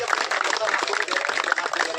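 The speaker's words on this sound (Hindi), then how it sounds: "एक बार जोरदार तालियां" A crowd claps loudly and steadily at an outdoor public campaign gathering in Uttarakhand for a road project. The applause is close and continuous for two seconds with no speech on top.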